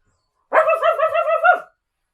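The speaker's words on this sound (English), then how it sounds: "Jack started barking" A single drawn-out, tonal dog bark rises abruptly on a wide sandy beach at low tide and lasts about a second before cutting off into silence.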